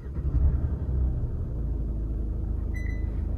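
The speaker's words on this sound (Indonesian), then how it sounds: "Ajaibnya, suaranya hampir hilang total begitu kita masuk ke dalam kabinnya." Diesel SUV engine heard from inside the well-insulated cabin, a steady low rumble that stays muted and continuous throughout, with a brief faint beep near the end.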